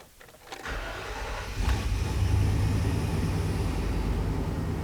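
A car engine cranks and catches after spark plug work in a garage, settling into a steady, loud idle that keeps running to the end.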